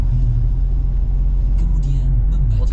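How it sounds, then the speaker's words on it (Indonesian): Heavy traffic of trucks, container lorries and motorcycles on the Pantura road between Cirebon and Brebes makes a loud continuous roadside rumble with passing engine noise. "situasi kondisinya kendaraan-kendaraan besar, truk, kontainer juga banyak yang melintas, dan motor ya, terutama nih motor banyak yang melintas"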